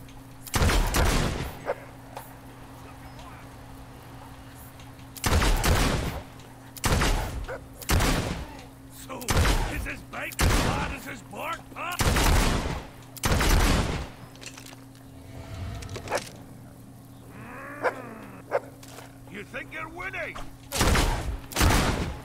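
Semi-automatic rifle shots from Fable 2 crack out in a dozen loud, evenly spaced single blasts over about twenty seconds, with a steady low hum and brief quiet gaps between them.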